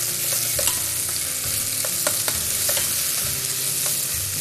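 Sliced garlic and blender-pureed onion fry in a pan for a mushroom soup, a steady sizzle broken by repeated scraping strokes of a spoon, close and with no voices.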